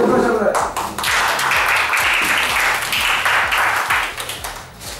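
Lively applause from a crowd at a comedy contest, dense clapping that continues throughout, with voices talking and cheering over it.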